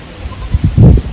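Goats bleat on a snowy farm during cold morning chores: a few short, close calls in quick succession, the last one longest and loudest, over quiet outdoor background.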